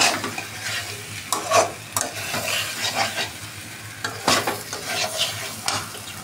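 Potatoes and pointed gourd sizzle in a pan while a utensil scrapes and stirs in uneven strokes, with louder hissing bursts as a little water is poured in.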